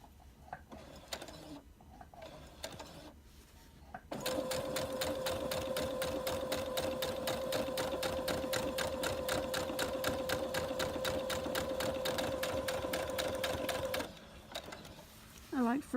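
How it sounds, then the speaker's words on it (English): A home sewing machine runs steadily for about ten seconds, stitching foundation stitches on quilt-as-you-go blocks, its fast rhythmic mechanical chatter close and loud, with quieter moments and brief handling sounds before and after. "I'll take a few foundation stitches"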